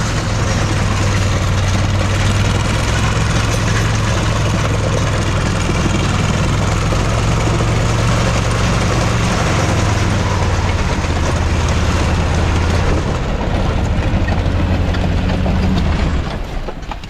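A snow cat off-road tow truck engine roars loud and steady as it drives through its gears. The heavy, rough mechanical drone continues close up for the whole stretch and fades slightly at the very end, with no voices.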